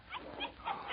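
A small pup whimpers and yips in a few short, high, whiny bursts over one second, close and fairly soft, with a muffled old-radio quality.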